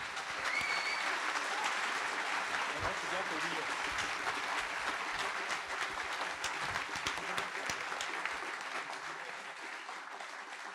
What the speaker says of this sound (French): je pense qu'on peut applaudir les participants